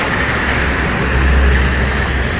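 A bus on Jalan Soekarno-Hatta, part of the Trans-Sumatra road in Palembang, passes loud and close with a steady roadside roar that swells slightly mid-way.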